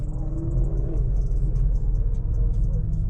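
Low, heavy rumble of a 345 Hemi V8 in a big lifted pickup truck, steady and loud throughout with a thick low-end drone and no talk over it.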